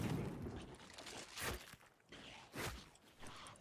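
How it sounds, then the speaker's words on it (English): Gunfire in the video game Death Trash: a couple of sharp, broadband bursts a second apart stand out over a busy, noisy game soundscape, moderately loud rather than close and dominant. "I hear gunshots."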